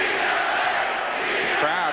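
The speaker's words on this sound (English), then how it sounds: "Crowd is starting to chant "Beat LA."" Basketball crowd at Boston Garden rising into a loud, sustained roar, a dense wall of voices with a rhythmic chant pulsing through it toward the end.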